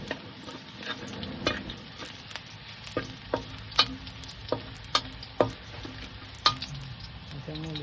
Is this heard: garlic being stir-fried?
yes